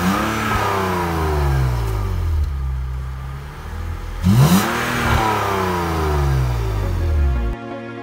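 BMW E36 engine revving through its exhaust, rising and falling in repeated close, loud pulls with a sharp higher blip in the middle before cutting off.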